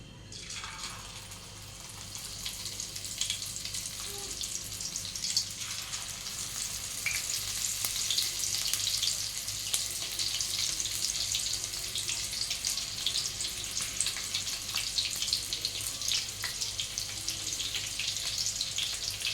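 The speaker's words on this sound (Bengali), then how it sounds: "এভাবে একটা একটা দিয়ে ভেজে নিতে হবে।" Chicken satay pieces fry in hot oil in a wok on a gas stove, giving a continuous bright sizzle and crackle that swells slightly and holds steady, close and without speech.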